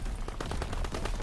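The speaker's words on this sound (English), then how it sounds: "This is a mean ass shotgun." A shotgun firing in the World War II shooter Call of Duty WW2, a rapid run of close, loud blasts rolling together over a noisy battlefield backdrop.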